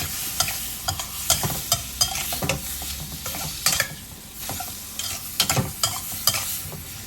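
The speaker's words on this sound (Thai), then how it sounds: "ผสมให้เข้ากันนะฮะ ตามด้วยน้ำเปล่าครับ" Chicken giblets stir-fried with ginger, sauces and water being stirred in a pan, with soft sizzling and repeated scraping strokes of a utensil in an uneven rhythm, no talk.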